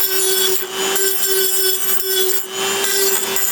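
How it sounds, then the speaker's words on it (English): A Dremel rotary tool with a sanding bit whines steadily with a constant high pitch while grinding and rasping against a metal ammo can edge, continuous and close. "So just get a Dremel tool with a sanding"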